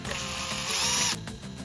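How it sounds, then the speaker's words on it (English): A drill boring a countersink hole into wood for a clock assembly, a steady whirring grind that rises slightly before cutting off, followed by brief handling noises. "Drilling a countersink hole so that the top of the screw can sink below the"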